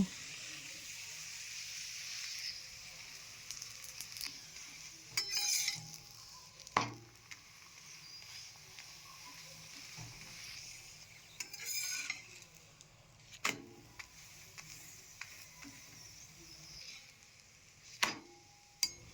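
Spinach paratha frying in a little oil in a pan gives a steady, close sizzle, broken by occasional sharp clinks and scrapes of a utensil against the pan.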